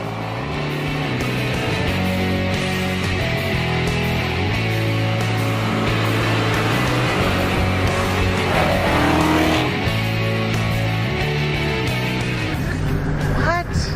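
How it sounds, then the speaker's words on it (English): A Dodge Charger SRT Hellcat does a burnout, its engine roaring steadily near and loud with rising and falling revs and a scrabbling tire squeal building midway, while people talk excitedly over it. "It's just a standard burnout."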